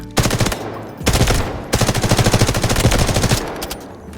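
An M4A1 rifle in the video game Delta Force fires three sustained full-auto bursts, loud and close, each a fast even rattle of shots separated by short pauses.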